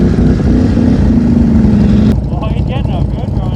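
Cammed Polaris Renegade XMR1000R ATV engine revving under throttle, a loud continuous droning roar that rises in pitch, then drops away abruptly as a voice talks over the engine noise.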